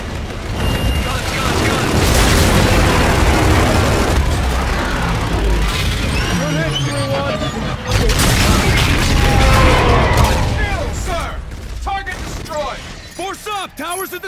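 Incoming gunfire and explosions in the game Call of Duty: Infinite Warfare, a loud, sustained barrage of rumbling booms that surges twice, with chirping whistling effects near the end.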